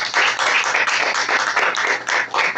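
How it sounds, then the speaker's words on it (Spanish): A church congregation claps hands together during a worship service, a steady rhythmic run of loud, dense claps lasting throughout with no talking. "Dele palmas, hermanos, al Rey de Gloria"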